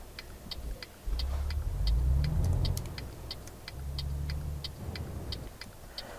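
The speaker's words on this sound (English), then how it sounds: "I know there's a car coming." A car engine in Euro Truck Simulator 2 roars past, swelling and fading twice, with a steady ticking clock-like beat running throughout the whole clip.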